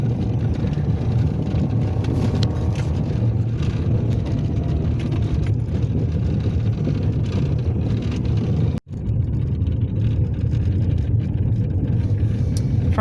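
A car driving along a dark rural road before dawn, a steady, loud engine and tyre rumble from inside the vehicle that continues throughout, with one brief dropout near the end.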